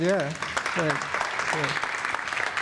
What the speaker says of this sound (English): maybe give them a round of applause for this invisible labor right here in the room